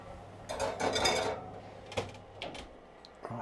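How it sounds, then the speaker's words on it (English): Sausages and oil on a tray slid into a small oven in a tiny house kitchen, with clattering metal tray and rack knocks and a couple of sharp clunks over about three seconds, close and moderately loud. "time to put the sausages and oil in the oven"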